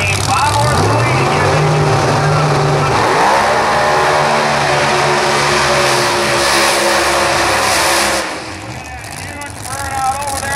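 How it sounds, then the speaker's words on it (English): A blown alcohol drag race car with a 526 cubic inch Allen Johnson Hemi does a burnout at a drag strip. A loud, rough engine roar rises and falls, with an announcer talking over it throughout. "Huge burnout over there in the Mafolco Lane"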